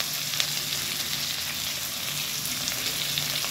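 Chopped onions with a little salt fry in a pan for bhindi sabzi, giving a continuous, even close-up sizzle with faint crackles and no voices.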